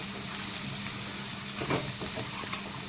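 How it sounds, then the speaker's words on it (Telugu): Ridge gourd pieces fry in a pan for an egg curry, giving a dense, even sizzle close by with a faint stir or scrape partway through and no voices. "ఇప్పుడు దీంట్లో బీరకాయ ముక్కలు వేసేసుకున్నాం"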